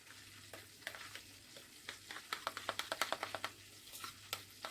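Rice is stirred in a wok with a spoon over oil, giving repeated scraping and tapping strokes over a steady low sizzle, quickening in the middle. No one speaks.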